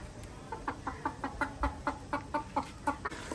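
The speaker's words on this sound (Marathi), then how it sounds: "कोंबड्या दाखवते." Village chickens clucking in a rapid, even series of short clucks close by, fairly soft against a faint background hum.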